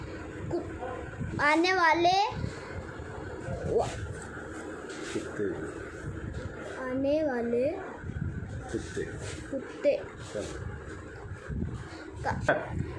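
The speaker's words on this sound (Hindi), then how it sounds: "कुत्ते पर भौंकने लगा।" A dog barks and yelps in a couple of short bursts, with whimpering cries, heard alongside a narrating voice.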